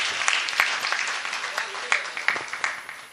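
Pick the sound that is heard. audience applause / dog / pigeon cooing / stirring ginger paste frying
audience applause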